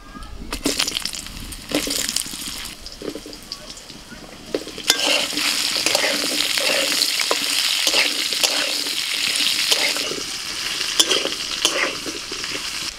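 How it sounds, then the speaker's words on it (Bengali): Potatoes dropped into hot oil with fried bay leaf, dried chilli, cumin and radhuni, clattering in then breaking into a loud, steady close sizzle with stirring scrapes and occasional utensil knocks, no speech. "ফোড়ন ভাজা হয়ে গেছে, আলুগুলো দিয়ে দিচ্ছি"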